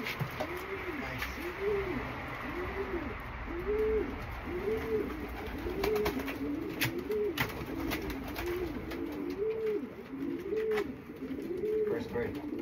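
Racing pigeons cooing in a soft, repeated rolling pattern, roughly a dozen even coos at a steady pace, close and moderate in level, with light clicks and background voices talking now and then.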